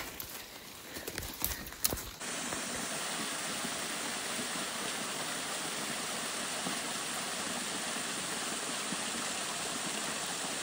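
A jungle stream flows with a steady, dense rushing wash that fills the air without pause, following a few seconds of scattered clattering knocks at the start.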